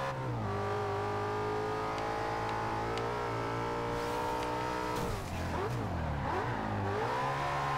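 An Audi RS4 in Forza Horizon 2 racing into a corner, its engine droning steadily at high revs, then dipping and surging again with tire noise as it takes the bend, loud throughout.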